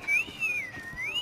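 A character in the Assassin's Creed Syndicate video game whistles a brief, wavering melodic tune, faint and alone without speech.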